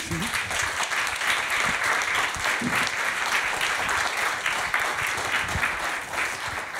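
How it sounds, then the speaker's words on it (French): Sustained applause from a lecture audience honoring Serge Tisseron at a talk on video games, a dense, steady wash of clapping that fills the room for about seven seconds without a break. "je pense qu'on peut applaudir Serge Tisseron"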